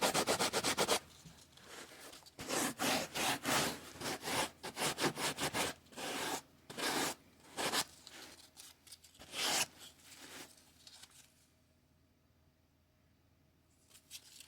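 A fedora cap being sanded with sandpaper: rapid back-and-forth rubbing strokes in bursts, close and fairly loud, then fading to near silence at the end.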